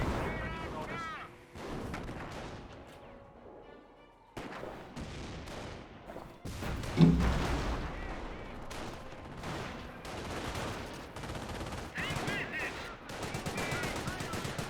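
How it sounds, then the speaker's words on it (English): Mortar half-track barrage in a Company of Heroes match, rendered as repeated booming shell impacts and gunfire bursts in close succession, with battlefield noise continuing throughout. "Mortar half track barraging away."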